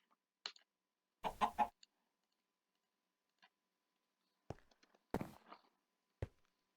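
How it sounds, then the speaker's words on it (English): Clucks from a chicken in a tornado survival video game come in a few short, separate bursts with quiet gaps between them. Faint clicks are also heard. "Little chicken."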